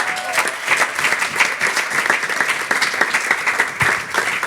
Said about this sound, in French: Est-ce qu'on peut les applaudir ce matin?